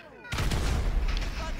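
Tank cannon blast in GTA V Online, a sudden loud boom after a brief quiet lead-in, followed by a long rumbling, crackling decay that fills the rest of the moment.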